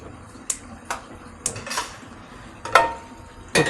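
Metal pan clanks down onto a gas stove in a home kitchen, a few sharp, close knocks and rattles spaced out across a quiet room.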